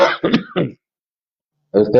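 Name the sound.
cough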